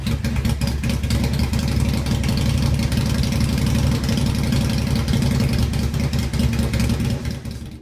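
A toy Postman Pat van rebuilt for drag racing with a 500cc four-stroke engine runs steadily, its loud, dense engine drone holding throughout before easing slightly at the end.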